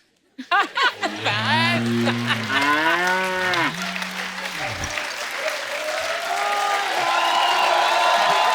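A buffalo moos in several long, loud, drawn-out calls that rise and fall in pitch on a comedy show stage, followed by studio audience applause and laughter that carry on to the end.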